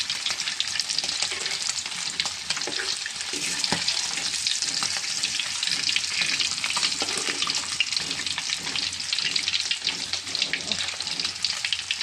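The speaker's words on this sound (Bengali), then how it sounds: "মাছটা হয়ে গেছে ভাজা" Hilsa fish fries in a pan with a dense, continuous crackling sizzle full of tiny pops, steady and fairly close, with no talking.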